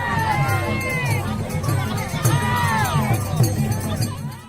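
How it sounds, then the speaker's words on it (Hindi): A crowd of devotees gathered to bathe at the Kamala river during the Bhoot Mela fair, with loud overlapping voices, shouting and bustle carrying steadily throughout. "नदी के कात में आई भोरे से स्नान करे वाला श्रद्धालु की भीड़ लागल है।"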